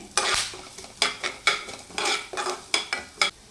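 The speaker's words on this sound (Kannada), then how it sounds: "ಮೆಂತ್ಯ, ಉದ್ದಿನಬೇಳೆ ಚೆನ್ನಾಗಿ ಹುರ್ಕೋಬೇಕು" Fenugreek seeds and urad dal roasting in a pan, with repeated scraping stirs and light crackle, close and steady, no voices.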